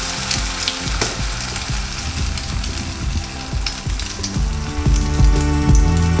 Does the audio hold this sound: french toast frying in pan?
yes